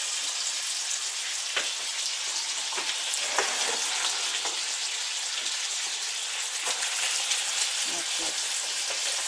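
Pancit noodle ingredients, chicken among them, fry in oil with a steady close sizzle and crackle. Scattered clicks and scrapes of stirring punctuate it, and no one speaks.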